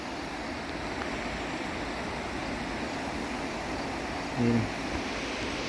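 Floodwater from an overflowing river rushing across a flooded road, a steady broadband roar that continues without a break, with a voice speaking briefly near the end.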